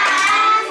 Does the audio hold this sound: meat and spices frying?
no